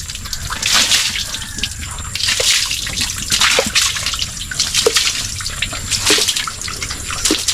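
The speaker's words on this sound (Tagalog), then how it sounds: "shower." Water from a shower runs and splashes continuously on a farm with pigs, a steady hiss with scattered drips and spatters and no talking.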